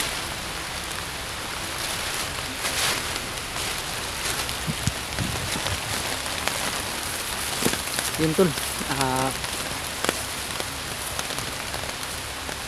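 Steady rain patters on surfaces outdoors during a journey, a constant close hiss with scattered drips, while a voice speaks briefly over it.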